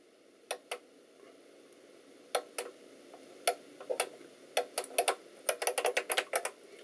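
Keys on an IBM Beamspring 5251 keyboard clack crisply and close, a few slow separate presses giving way to a quicker run of typing, with no voices.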